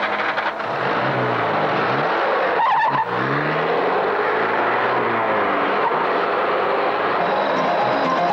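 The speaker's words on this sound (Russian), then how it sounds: "Машина движется в сторону Выборгского шоссе." A car accelerates during a 1980 film chase on the way to a highway, shown in a Soviet pursuit scene. A loud, continuous engine roar climbs and shifts in pitch with gear changes and sweeping pass-by tones, and no one talks.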